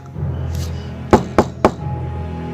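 Three sharp knocks sound on a door downstairs at night, spaced unevenly over a low background hum and standing out clearly and alone.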